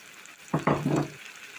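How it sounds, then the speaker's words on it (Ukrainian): Vegetable caviar stewing in a pan gets a brief stir, a short burst of spoon scraping and wet shuffling with a faint metallic ring lasting under a second, set against a quiet low simmer. "Перемішую і знову накриваю кришкою і тушкую"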